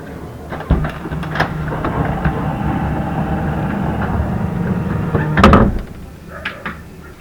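A sliding door on a 1999–2004 Honda Odyssey minivan rolls shut under a steady low rumble and latches with a loud clunk, followed by a slight rattling shake.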